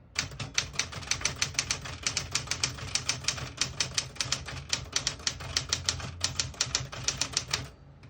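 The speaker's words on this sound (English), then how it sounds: "I'll type a sentence on the next line." Rapid, crisp keystrokes on a 1967 Smith-Corona Super Sterling portable typewriter, a steady run of sharp clacks close up with small pauses between words and no voices.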